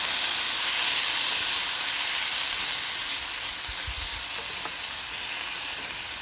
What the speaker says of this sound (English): We can lightly stir fry our carrot and spinach.